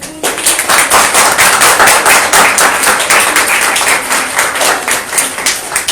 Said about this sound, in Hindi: एक भरपूर तालियां अनीला के लिए हो जाए।